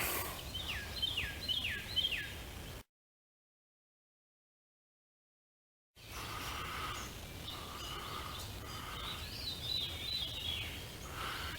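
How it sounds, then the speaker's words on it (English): Thrush, a relative of the robin, singing downward spiraling flute-like phrases in woodland, several falling whistled notes in quick succession, moderately near, with a gap of silence mid-way before more song among other birds. "another bird call calling, a downward flute-like spiraling sound. It's a thrush related to a robin."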